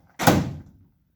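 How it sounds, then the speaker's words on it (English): A door on a 1953 GMC panel truck swings shut with a single solid thunk, close and fairly loud, then a short fading rumble. "the doors open and close perfect"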